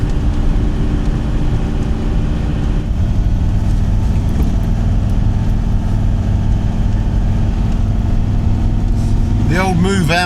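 A camper van's engine drones steadily while driving up Winnats Pass in the Peak District, a low continuous rumble held at high revs, with talking over it throughout and a brief higher whine near the end.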